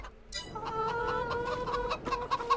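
A flock of about fifty chickens in the Farming Simulator 22 video game clucks and chatters steadily against a low ambient hum, with no talk over it.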